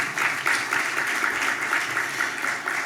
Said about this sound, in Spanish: Por favor, un aplauso para don Randall